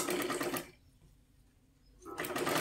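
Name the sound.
sewing machine stitching a strip onto a blouse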